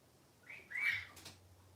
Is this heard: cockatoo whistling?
yes